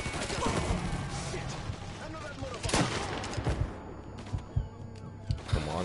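Shotgun blasts in the video game Mafia 3, several sharp loud reports at irregular intervals over busy game noise, with scattered voices.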